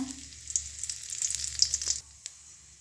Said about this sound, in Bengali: তেলটি গরম হয়ে আসছে এবার দিয়ে দেবো গোটা জিরে শুকনো লঙ্কা